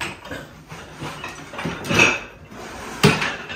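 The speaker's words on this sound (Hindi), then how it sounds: "बर्तन शीशे वाले कोप केटलियाँ आराम से रखना है इनको। वो खड़क रही हैं।" Glass cups and china kettles clattering while being handled and set down, several sharp clinks and knocks at uneven intervals, close and moderately loud, with one bright clink near the end.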